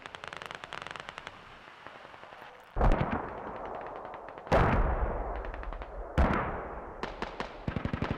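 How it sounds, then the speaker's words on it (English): Gunfire and mortar impacts in the military shooter game Squad: several heavy booming blasts with long rolling tails, interleaved with rapid bursts of distant automatic rifle fire, fairly loud and without speech. "Hearing mortars and hearing shots now"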